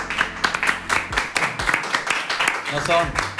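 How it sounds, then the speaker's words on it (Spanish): Live applause from a small podcast studio audience, a dense patter of hand claps running throughout with people talking over it. "No, esos aplausos no son una grabación."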